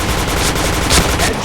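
An AWP sniper rifle firing a headshot in the video game Point Blank: one loud, sharp shot rising out of continuous dense game noise in a brief burst.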